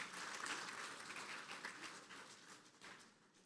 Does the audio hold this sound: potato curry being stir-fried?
no